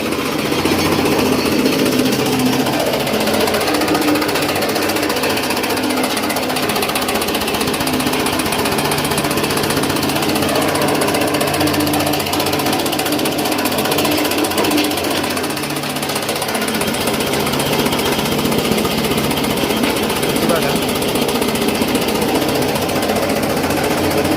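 An Ambika Agro chaff cutter machine chops green napier grass, a loud, continuous mechanical clatter and whir that runs steadily throughout, with no talk.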